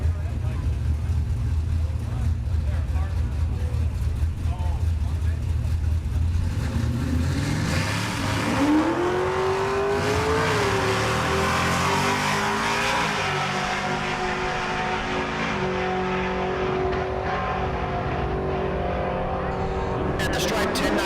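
Naturally aspirated small block drag race cars launch at a Kansas dragstrip, a loud sustained engine roar that builds and rises in pitch as they accelerate away, with a public-address announcer talking over it.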